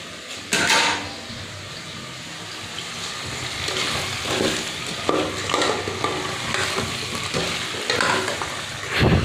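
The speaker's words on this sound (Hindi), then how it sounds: "बस इसको इतना अच्छे से भूनना है कि नमक मिर्च का कच्चापन जो है वो ख़त्म हो जाए" Turnips with salt and chilli sizzle and fry in a pan while a spoon stirs and scrapes them, the scrapes coming in irregular bursts over a constant frying hiss, close and fairly loud, with no talk.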